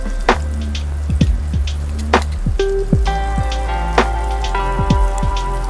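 Garlic fries in a pan until brown for a noodle dish, a steady oily sizzle broken by frequent sharp pops and clinks of a utensil against the pan.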